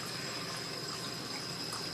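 Tap water runs steadily to refill the brine around a frozen turkey, a constant close hiss and splash with no breaks over the whole stretch.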